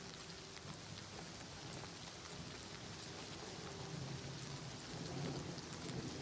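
Steady rain pours down in the fantasy role-playing game Oblivion Remastered, a dense, even hiss of drops with low rumbling beneath that swells slightly toward the end, with no voices.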